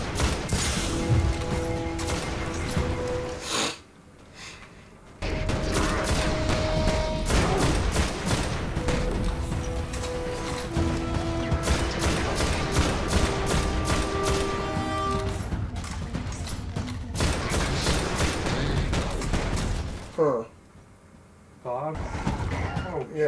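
Weapon fire in the Destiny beta during a first boss fight, dense bursts of rapid shots and impacts from a quick-triggered, precise weapon, loud and sustained with brief pauses and game music and effects around it.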